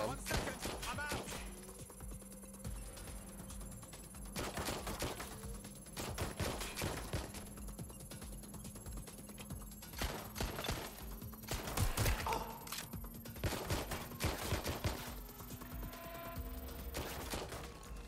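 Repeated bursts of gunfire in Watch Dogs: Legion, clustered volleys of sharp shots recurring across the span over a steady low electronic hum, with faint talk in places.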